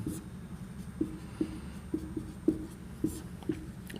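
A pen or chalk makes short scratching strokes while notes are written, about eight distinct strokes in an uneven rhythm, close and fairly faint over a quiet room background.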